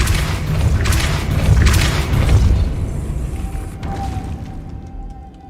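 A Depulso spell impact in Hogwarts Legacy: a loud, deep booming rumble that swells for a couple of seconds, then fades into a thin lingering tone.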